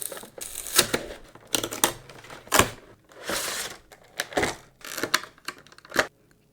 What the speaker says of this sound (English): I thought we should open this cool Charizard EX box